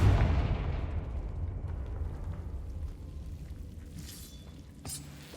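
A Confringo blasting spell in the video game Hogwarts Legacy lands as a loud, booming explosion with a long rumbling decay, followed by a few small crackles and a sharp, bright hit near the end.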